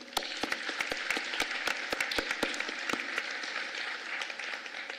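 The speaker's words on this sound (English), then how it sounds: "Please give them a round of applause." Audience at a University of Central Missouri freshman convocation applauding the UCM band, with sustained clapping and sharp individual claps standing out across the whole stretch at moderate distance.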